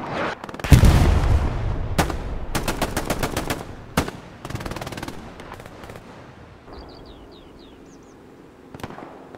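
Gunfire in the World War II shooter Hell Let Loose: a loud nearby blast, then rapid bursts of machine-gun fire and scattered single shots that fade to sparse, quieter distant cracks.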